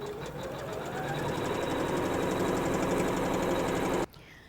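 Sewing machine stitching a tack down line on fabric for a butterfly tool pouch, a steady rapid mechanical whir and needle chatter running about four seconds before stopping abruptly, leaving near silence.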